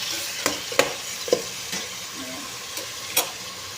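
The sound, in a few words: sautéing chicken in a pan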